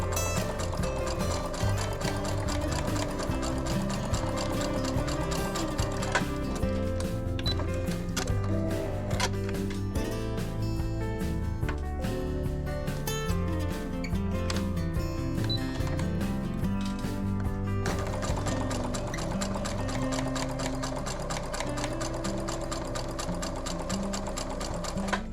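Singer Brilliance sewing machine stitching scrap fabric quilt pieces joined with adhesive tape, a loud continuous mechanical whir that runs steadily throughout.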